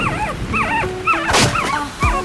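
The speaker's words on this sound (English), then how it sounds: "It's a puppy!" A young abandoned puppy whimpering and yipping in repeated rising, wavering cries, close and clear, with brief bursts of noise between the calls.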